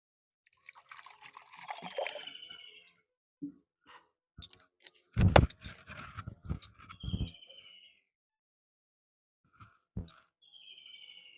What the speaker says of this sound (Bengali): এবার দিয়ে দেব একটু জল।